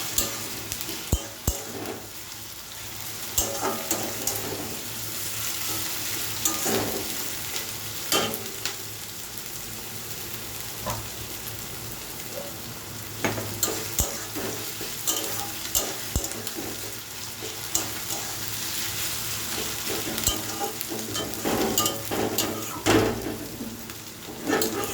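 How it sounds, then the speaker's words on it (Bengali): Onion and garlic fry in a pan for chicken curry with a steady sizzle, broken by repeated sharp clinks and scrapes of a utensil stirring against the pan. "আমি এবার পেঁয়াজটা ভাজা হয়ে এসছে, এবার আমি রসুনটা দিয়ে দিচ্ছি। রসুন দিয়েও ভাজা হবে।"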